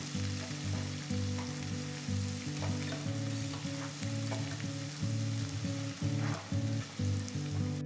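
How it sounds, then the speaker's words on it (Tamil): Onions sizzle and fry in a hot pan while making khara bath, a steady crackling hiss with occasional stirring, no voices. "வெங்காயம் சேர்த்து ஒரு நிமிஷம் வதங்கட்டும்"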